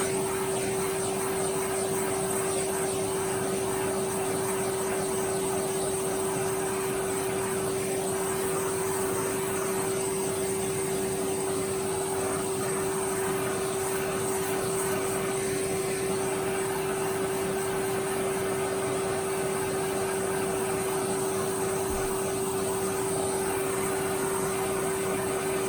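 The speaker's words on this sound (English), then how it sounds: "get our vacuum" A Hoover Junior U1012 vacuum cleaner runs continuously, a loud steady whine with a constant pitched drone and no pauses throughout.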